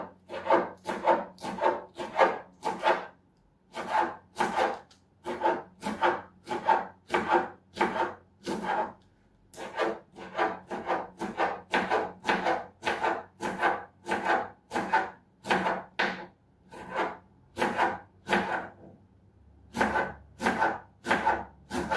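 A knife slices purple cabbage on a wooden cutting board in fast, even strokes. Each crisp crunch lands close and loud in a steady rhythm of short runs, with brief pauses between them.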